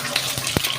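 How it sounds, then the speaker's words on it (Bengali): An egg fries in hot oil in a wok, a brief burst of sizzling crackle with a couple of sharp scraping knocks, close and loud. "ডিমটা আমি আগে ভালো করে ভেজে নেব।"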